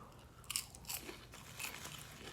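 Crunchy potato-based snack being chewed close up, giving a quiet series of irregular crisp crunches with no talk.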